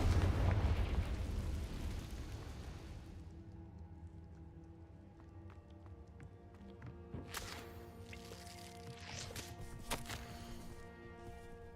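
A Confringo spell explosion in Hogwarts Legacy, a loud fiery blast that decays over a few seconds into quieter crackling, followed by scattered sharp pops and a sustained tonal hum.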